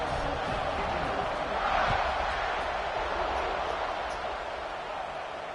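A college football video game stadium crowd murmurs and roars steadily at kickoff, a broad, distant wash of noise held at a constant level for several seconds.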